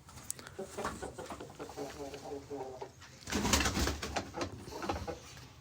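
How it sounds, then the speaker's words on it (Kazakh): Ducks kept on a poultry farm call repeatedly in soft, nasal bursts, with a louder stretch of rustling, flapping and mixed bird noise partway through, all at close range. "Бізде үйректер"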